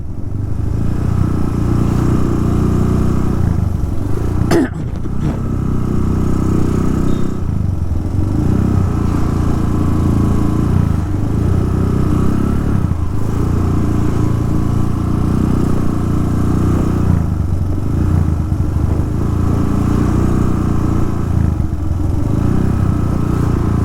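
Motorcycle ridden at night along a road in Bali, a steady close engine drone that runs for the full stretch, with a sharp clack near the start and faint road rumble underneath.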